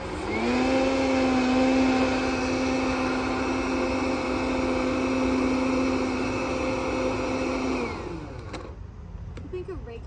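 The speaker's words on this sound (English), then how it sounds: "You think a regular blender would work okay?" A blender runs with carrot tops and pepitas for pesto, a loud, steady motor whir with a strong pitched hum that holds for about eight seconds, then cuts off to near silence.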